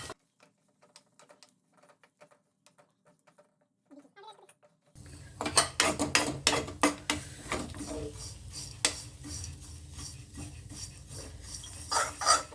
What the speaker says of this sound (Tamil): இப்போ இதில் எடுத்து வச்சுருக்க அவளையும் லேசாக வறுத்துப்போம்.